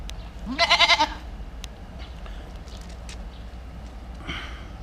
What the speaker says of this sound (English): I think the goat thinks I'm the mother